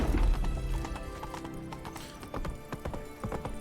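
Horse hooves clip-clop in The Witcher 3, with Geralt's horse Roach moving at pace while a whinny or neigh sounds early on, all over steady game ambience and music.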